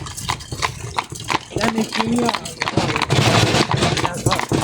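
Horse hooves clip-clopping in a steady rhythm nearby, with people talking over them throughout; the horse is a broad mare.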